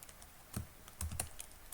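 Typing on a computer keyboard, a few scattered keystrokes in short clusters, close and fairly quiet, with no talking.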